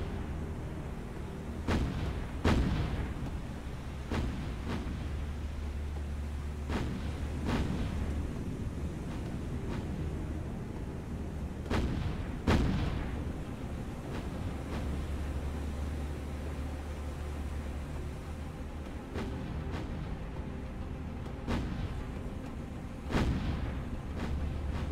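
Anti-aircraft guns fire in the War on the Sea naval combat game, with repeated sharp booming shots at irregular intervals over a constant low rumbling engine and sea drone.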